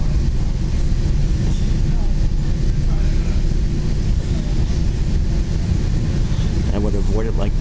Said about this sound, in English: Now this train goes through Schaumburg.